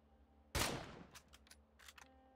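Gunfire in the video game State of Decay 2: one loud, sharp burst followed by several shorter, quieter shots spaced irregularly over about two seconds.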